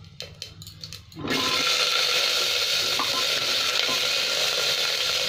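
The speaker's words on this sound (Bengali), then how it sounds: "এটা একটু গোটা জিরে দিয়ে দেবো, একটু ভাজা হবে" Whole cumin and dried chili frying in hot oil, a loud, steady sizzle that bursts in suddenly after a second of quieter clinking and then holds strong and close for several seconds.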